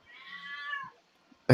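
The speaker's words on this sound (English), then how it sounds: "Yes, that is a cat. That is not a mountain lion." A single drawn-out cat meow, close and clear, lasting almost a second. It is followed by a short quiet gap and then an abrupt loud noise at the very end.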